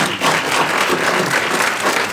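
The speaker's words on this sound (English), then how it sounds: "how about if we give one more round of applause for" At the Compass Awards 2022 ceremony, an audience gives a full round of applause, a loud, dense and even roar of clapping hands with no talk.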